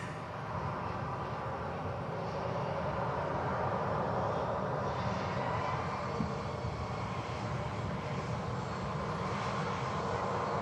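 An Emirates Boeing 777 at Manchester Airport gives off a steady, broad jet engine roar that holds at an even level throughout, fairly distant with no clear rise or fall.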